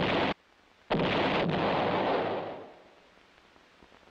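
A field artillery gun fires, giving a sharp boom, then a second heavy blast that rolls into a long rumbling decay and fades into quiet.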